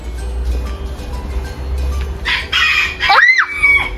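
A rooster crows loudly nearby in a school park garden, its rising and falling call cutting through steady outdoor background noise.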